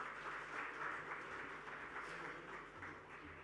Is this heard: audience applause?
yes